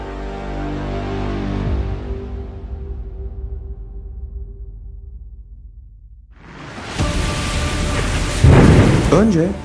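Rain and thunder sound effect: a low rumbling roll of thunder fades through the first six seconds, then heavy rain bursts in loudly with a sharp crackling thunderclap near the end.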